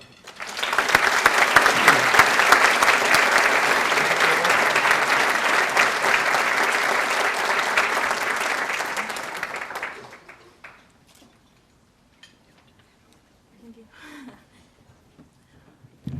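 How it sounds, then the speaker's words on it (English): An audience at an awards ceremony applauds with dense, sustained clapping for about ten seconds before it fades into a quiet room with faint stray sounds. "Your applause, please, for Lucy and Gaia."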